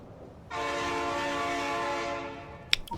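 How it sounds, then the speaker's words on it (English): A train horn from the video game Factorio sounds one long, steady, harmonic blast of about two seconds, loud and alone, followed by a couple of brief sharp clicks. "Train."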